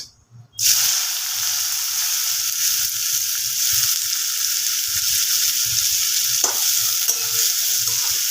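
Chopped onion and a pinch of ground garam masala frying in hot oil for chicken kosha, a loud, close, steady sizzle that starts abruptly after a brief quiet moment and continues with occasional stirring.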